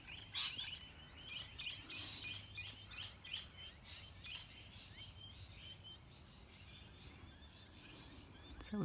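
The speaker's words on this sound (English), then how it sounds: "Birds are really saying hello to you" Birds chirp and tweet in a repeated, rapid series of bright calls, faint and somewhat distant, over a quiet background with no talking.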